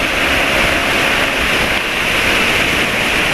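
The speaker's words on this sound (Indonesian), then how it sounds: "Wah, ini anginnya kencang" Strong wind roars steadily into the microphone during a motorcycle ride, a dense, unbroken rush with no voices over it.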